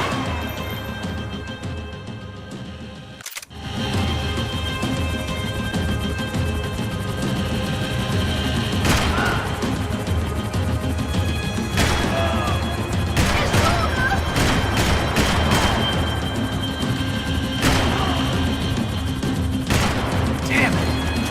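Max Payne 3 gunfight: after one sharp blast and a sudden drop-out, bursts of rapid gunshots and impacts follow over a dense, loud layer of game noise, with voices talking in the mix.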